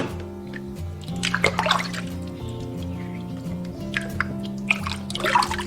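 Tap water runs and splashes in a sink while ribbonfish innards are rinsed out. The stream is close and continuous, with uneven drips and splatters over it and a steady low hum underneath.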